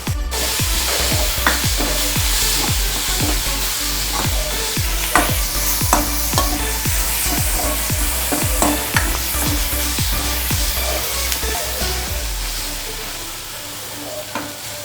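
Chopped onions sizzle steadily in hot oil for a Marathi-style dal tadka, with repeated spoon scrapes and stirring strokes over a constant frying hiss, close and loud with no talking.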